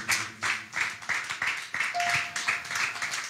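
Church congregation clapping in praise of God, a steady rhythmic beat of roughly two to three claps per second from a crowd, moderately close, with faint voices mixed in.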